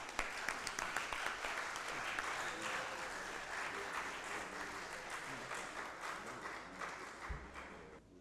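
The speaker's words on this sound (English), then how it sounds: "Please clap for yourselves" Seminar attendees at a land surveying division event clap for themselves, a steady, fairly distant wash of applause that holds for several seconds and fades toward the end.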